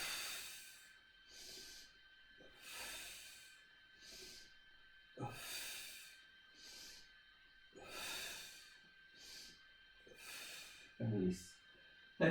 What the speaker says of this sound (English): In breath, reach, out breath